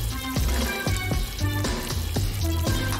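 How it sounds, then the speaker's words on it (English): Running water rinses shaving cream off a spray-painted DIY school board, a steady close splashing and trickling with small irregular drips and bumps, heard alone without talk. "The water is just rinsing it all away."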